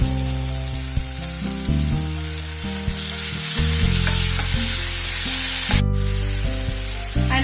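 Ginger garlic paste sizzles loudly in a pan with well-cooked onions for butter chicken, a steady dense frying hiss with stirring scrapes underneath, close and continuous throughout.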